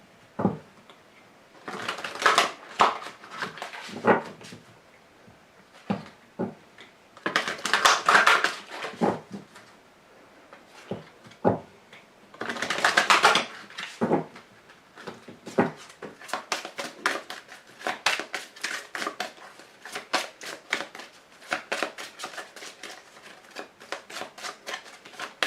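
Archangel Gabriel oracle cards being shuffled and drawn, repeated riffling bursts and soft card snaps in irregular clusters, close and crisp, with occasional quiet speech between.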